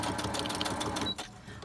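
Sewing machine stitching fabric, a steady fast rattling whir with even needle pulses, close and continuous before easing off near the end.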